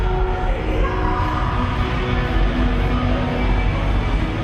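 A Christian rock band performing live at a concert, a dense, steady wall of amplified guitars, bass and drums, loud and continuous throughout with crowd-like wash and no clear speech.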